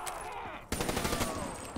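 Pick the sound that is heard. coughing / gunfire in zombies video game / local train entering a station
gunfire in zombies video game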